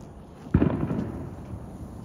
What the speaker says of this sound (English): I guarantee you that little firecracker is not gonna hurt you.